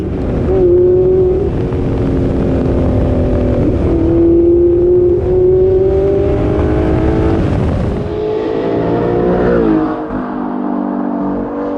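A V8 engine roars loudly close by, holding a deep growl and revving up in pitch several times, then the sound drops as it backs off the throttle.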